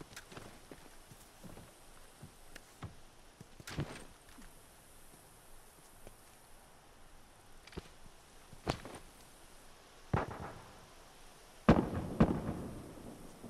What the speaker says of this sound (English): Fire in the hole. Bombs on.